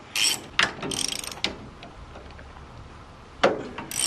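A hand ratchet loosens bolts on a trailer jack during an electric jack install. Bursts of rapid close clicking pawl ticks are separated by quieter pauses, with no voices.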